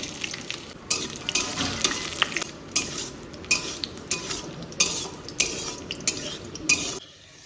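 Cashews and raisins fry in white oil in a wok. A spatula scrapes and stirs in a regular rhythm over a constant close sizzle, and the sound drops away at the end.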